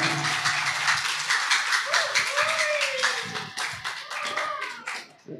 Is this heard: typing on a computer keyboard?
no